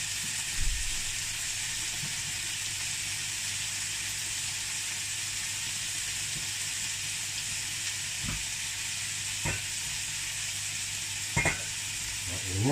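Mushrooms sizzle in a hot pan for sweet and sour chicken, a steady close hiss broken by a few sharp knocks as they are stirred.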